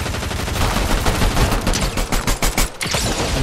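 The player's gun fires in a video game boss fight, a loud, dense, rapid stream of shots that continues almost without pause and cuts out briefly near the end.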